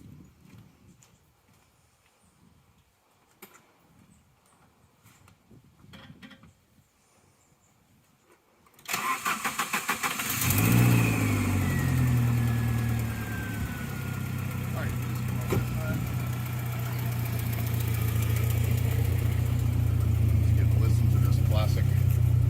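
A 1988 Saab 900 SPG engine cranks and catches after quiet shuffling, then settles into a loud, steady idle with a deep exhaust rumble that continues to the end, with some talk early on.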